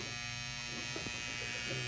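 An extra-large chest freezer, wired with a spliced-on male plug, hums steadily on power with a constant electric buzz that stays even and close throughout.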